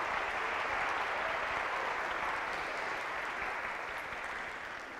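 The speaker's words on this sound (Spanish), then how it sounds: "Un gran aplauso." A large audience applauds at an opera concert in an auditorium, a broad, even wash of clapping that holds steady for several seconds before fading slightly toward the end.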